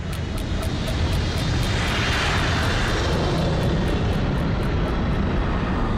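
The engines of hijacked airliner Flight 11 drone steadily through a turn, a dense, continuous roar at even loudness with no voices.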